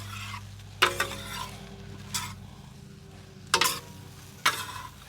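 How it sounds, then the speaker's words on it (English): Salmon and shrimp stirred into lo mein on a recteq Matador griddle, a soft sizzle beneath several sharp metallic scrapes and clanks of utensils spaced a second or so apart. "So now we're gonna start incorporating our salmon and our shrimp"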